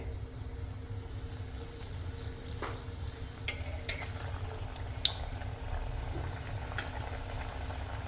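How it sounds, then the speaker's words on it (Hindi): Sindhi chotha dough frying in hot oil over a low gas flame gives a steady, soft bubbling crackle, fairly faint, with a few sharper clicks scattered through it. "तो तेल गरम हो चुका है तो अब इसमें डाल रही हूँ।"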